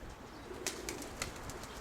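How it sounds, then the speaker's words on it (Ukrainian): A female dove flaps her wings a few times, giving three soft, quick claps over a faint, steady background hiss. "А, ще ляпотить голубка."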